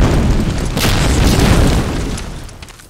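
A grenade explodes in Medal of Honor: Allied Assault, one loud, close, deep boom that swells briefly and rolls off into a fading rumble, with no talk.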